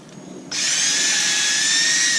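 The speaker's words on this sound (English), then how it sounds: "Drill out the bottom of this hole, just like so." Power drill boring into the bottom of a hole in a wooden mallet head, starting abruptly after a brief quiet moment and then running as a steady, close, high whine with a bright tonal edge.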